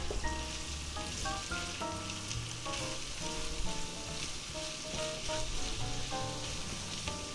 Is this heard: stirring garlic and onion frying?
yes